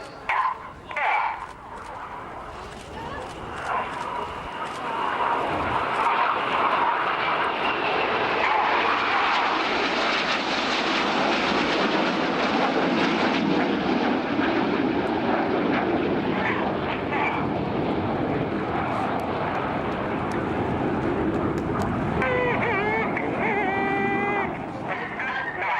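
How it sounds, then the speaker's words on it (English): Red Arrows jets flying formation rolls at an air display, a loud roaring engine sweep that builds, peaks and fades over several seconds, with a dog barking faintly near the end. "The inside pilots perform tight match rolls to the outside of the formation"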